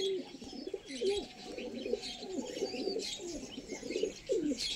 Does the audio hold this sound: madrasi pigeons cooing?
yes